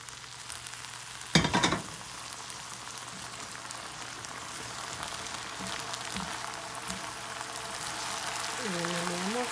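Nopales drop into a hot pan with garlic and begin frying, a sharp burst of sizzle followed by a soft, steady crackle, with a brief stir and a faint voice near the end.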